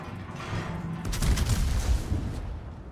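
Heavy battleship main guns firing in a naval combat game, a loud rolling salvo of booming blasts that builds from a rumble into dense overlapping reports around the middle, then fades back into low rumble.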